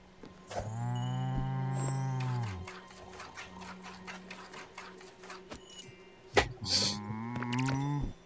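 A cow moos in the video game Spiritfarer: a long, drawn-out low moo, then a stretch of rapid rhythmic clicking, then a second moo after a sharp knock.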